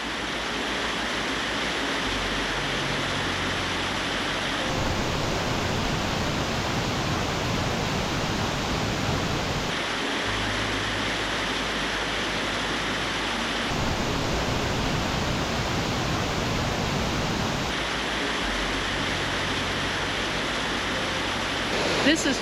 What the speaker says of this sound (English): This is Tangle Falls